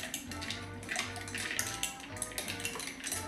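A Skittles vodka cocktail stirred with utensils, light metallic clinks and taps against the glass in an irregular rhythm, quiet and close.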